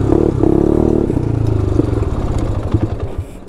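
A quad engine, front wheel bearings missing and one front tire flat, revs hard while riding a wheelie in fourth gear, a loud, close, rough throbbing drone that holds steady and then fades with sputtering pulses toward the end.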